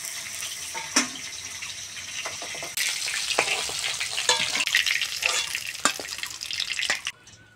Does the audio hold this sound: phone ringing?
no